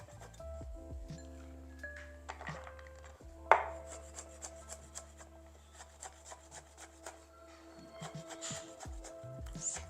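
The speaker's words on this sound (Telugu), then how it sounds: "ఇప్పుడు వీటిని మనం సన్నగా కట్ చేసుకుందాం ఇలా స్కిన్ తీసుకున్న బాదాంని ఇలా సన్నగా కట్ చేసుకోవాలి" Peeled soaked almonds sliced thin with a knife on a board, a run of close, light chopping taps and scrapes with a sharper knock near the start, no talking over it.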